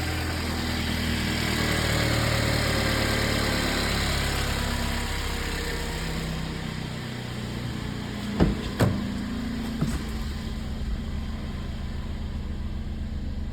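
A 2020 Mercedes A45s engine idles after a cold start with a steady, low, smooth drone at moderate distance, interrupted near the end by a few brief sharp clicks or knocks.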